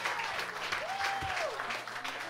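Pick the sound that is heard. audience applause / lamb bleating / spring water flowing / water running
audience applause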